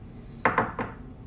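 Sugar spooned into a cup of coffee: three quick light clinks and taps close by, spaced a beat apart, then quiet.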